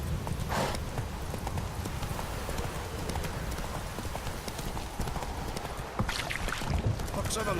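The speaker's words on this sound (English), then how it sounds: "Whoa there, Roach" Roach, Geralt's horse in The Witcher 3, clip-clops along in a steady rapid rhythm of hoofbeats over a dense outdoor noise bed, with voices speaking over the hooves.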